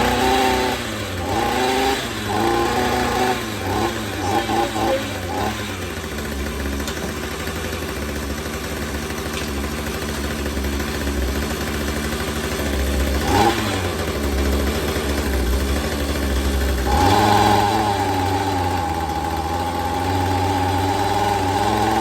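McCulloch B26 petrol strimmer engine running after a throttle linkage repair, a steady buzzing hum with a few throttle blips near the start and a rise in pitch toward the end, loud and continuous.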